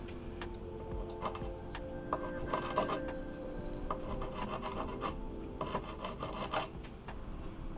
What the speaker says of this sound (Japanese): まず角パイプを当てて大きく飛び出ているフレットを探し、そのフレットだけを削ります。